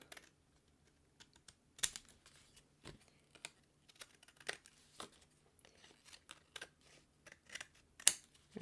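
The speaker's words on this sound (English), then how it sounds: "so now that we've got those all down, we'll just turn it over and trim those off." Scissors snip die-cut paper leaves in a card-making session, a series of quiet, irregular crisp cuts and small paper rustles spread across several seconds, close to the microphone.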